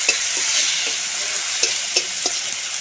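Onion, tomato, ginger and chilli powder frying in oil, sizzling steadily while a spoon stirs through the pan in short repeated scrapes.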